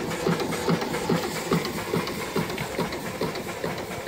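An antique steam engine powered by a boiler runs steadily, giving a regular chuffing beat of about two strokes per second over a constant hiss, close and moderately loud with no talking.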